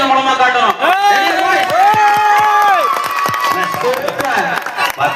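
Audience clapping and cheering at an Ambedkar Jayanti drama performance, loud crowd noise with whoops and sharp claps under shouting voices, sustained throughout.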